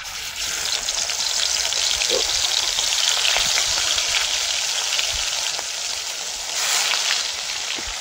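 Catla fish fries in hot oil on a clay stove, giving a steady bright sizzle and hiss that swells and fades slightly throughout, with no voices over it.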